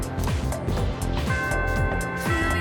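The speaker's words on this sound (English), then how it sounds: "The first bell has rung." The school bell in the video game Persona 3 Reload rings as bright, sustained chime tones layered over steady, rhythmic in-game music, with no voices.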